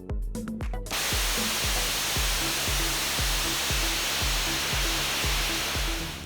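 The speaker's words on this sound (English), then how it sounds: "engineers recently conducted a final hot-fire test in Promontory, Utah, of the ABORT motor built for the launch abort system on NASA's Orion spacecraft" Hot-fire static test of the Orion spacecraft launch abort motor in Promontory, Utah: a sustained, loud, broadband roar with a repeating low thumping pulse underneath, continuous after a short rumbling start, with no voices.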